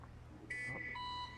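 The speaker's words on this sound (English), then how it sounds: "there's the alarm for this episode's Nerd Alert" Electronic alarm in a prison-building video game, a short pair of bright beeping tones sounding briefly and fairly softly over low background hum.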